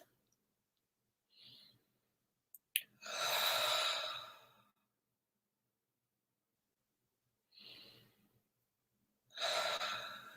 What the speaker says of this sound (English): we're going to do some breaths, inhaling through our nose and then exhaling through our mouth